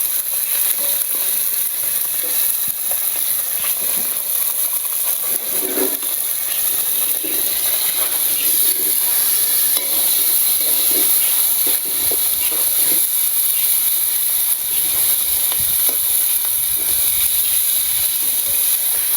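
Spices and mustard tempering for a sour fish curry with fresh puti and tengra fish sizzle and hiss steadily in hot oil, a continuous loud frying crackle with steam throughout and no talking.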